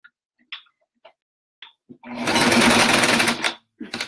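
A sewing machine runs a straight stitch on a pillow cover in one fast, whirring burst of about a second and a half, with a person talking briefly before and after it.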